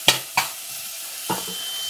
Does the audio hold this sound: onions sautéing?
yes